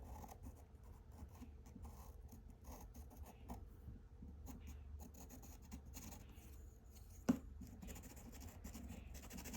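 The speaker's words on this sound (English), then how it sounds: "I'm going over the purpley and the green colors that I already laid down there with the charcoal pencil" A charcoal pencil shades over colour on paper, with faint, close, continuous rasping and rubbing strokes and one brief sharp tap partway through.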